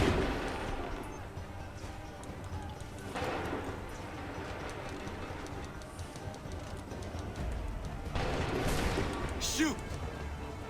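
Musket volleys and gunfire in the Assassin's Creed 3 video game, with bursts of battle noise swelling near 3 and 8 seconds over a continuous din and shouted voices.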